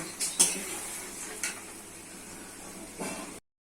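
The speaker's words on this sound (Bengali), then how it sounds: "দিচ্ছি ছোলার ডাল, ছোলার ডাল দিয়ে ভালো করে কষে নিতে হবে।" Potatoes and chana dal sauté with spices in a pan, giving a soft steady sizzle with a few sharp clinks of a utensil against the cookware before the sound cuts out.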